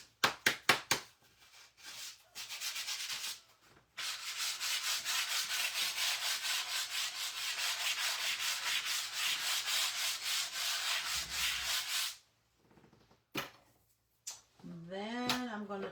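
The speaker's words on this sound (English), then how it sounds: "I am going to give it a quick sand." A wooden 16-inch round ghost door hanger with a stained background is sanded by hand in rapid, rhythmic rubbing strokes for several seconds, with a few taps around them and a brief voice at the end.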